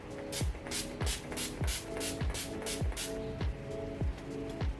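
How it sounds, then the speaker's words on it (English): A series of short hissing bursts of Urban Decay Quick Fix Priming Spray, about eight in a regular rhythm, close by, with a low mechanical hum running underneath. "today I am using Urban Decay's Quick Fix Priming Spray"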